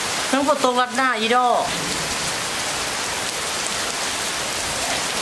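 Steady, close rain falls hard on a surface and keeps up an even, dense hiss, with a brief burst of voice at the start.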